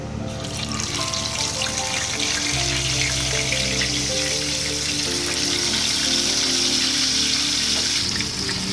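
Fish coated in masala frying in coconut oil, a continuous loud sizzle and crackle with a steady hiss throughout, and no talking.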